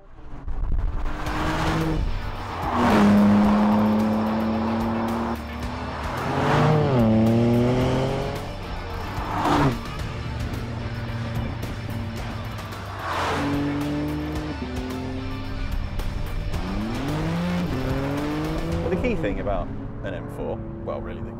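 A BMW M4 Competition driven hard, its engine rising and falling through repeated revs and gear changes, with tires squealing in the corners, loud and up close while someone talks over it.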